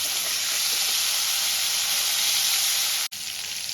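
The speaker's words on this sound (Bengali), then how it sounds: "ফুলকপিগুলো আমি লাল লাল করে ভেজে নিয়েছি।" Cauliflower frying in a pan for a vegetarian potato, cauliflower, pea and paneer dish: a close, steady, loud sizzle of hot oil, continuous throughout with one brief dropout near the end.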